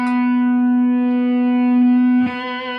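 Electric guitar through a Boss feedbacker booster pedal used as distortion, recorded direct into a Tascam 244 Portastudio with no microphones, a single sustained overdriven note ringing steady and loud with bright harmonics, then a sharp pick attack near the end changes the tone.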